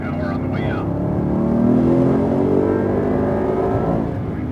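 A Mercedes-AMG accelerates hard out of a corner at Circuit of the Americas, its engine note climbing in one steady, loud surge. Faint voices can be heard under the engine.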